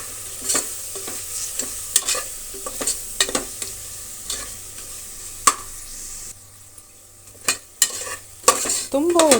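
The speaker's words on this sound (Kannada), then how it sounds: "ಮಸಾಲೆ ಪುಡಿಗಳು ಹಾಕಿದರೂ ಕೂಡ ಒಂದು 10 ಸೆಕೆಂಡು ಇಲ್ಲ 12 ಸೆಕೆಂಡಷ್ಟು ಕಾಲ ಮಾತ್ರ ನೀವು ಫ್ರೈ ಮಾಡಬೇಕಷ್ಟೇ" Garam masala and biryani masala powder fry briefly in a pan for an egg and vegetable pulao, with a soft sizzle under sharp, irregular stirring scrapes and clinks of a spoon, close and loud.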